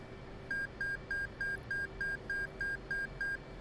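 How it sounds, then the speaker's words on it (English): The FA-18C cockpit in the DCS flight simulator gives a self-check completion signal: a crisp series of ten evenly spaced electronic beeps in a quick, regular rhythm over a low steady hum. "Those beeps let us know that the self check is complete"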